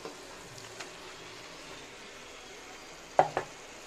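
Okra tossed into a pan of sizzling tomatoes gives a quiet, steady sizzle, broken near the end by two quick metallic clanks of utensil against pan.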